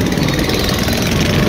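A tractor engine runs loud and close in a steady low rumbling idle with a slightly knocking pulse, on a flooded street in Roorkee.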